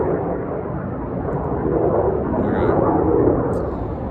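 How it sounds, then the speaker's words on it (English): Loud fighter jet flying low overhead near the Tucson air base, a continuous broad rumbling roar that swells slightly toward the end and holds steady throughout. "So it's very loud with the fighter jet flying behind me right now."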